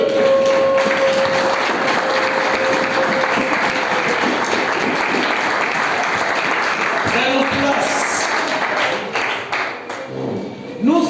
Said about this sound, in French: Applaudissons plus fort la parole de Dieu